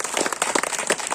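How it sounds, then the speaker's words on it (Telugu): An audience at a meditation gathering in Gopalapuram breaks into applause, a brief dense burst of many hands clapping at once, moderately loud and close, with no talking over it. "ఒకసారి చప్పట్లు కొడతాం పత్రిక గారికి"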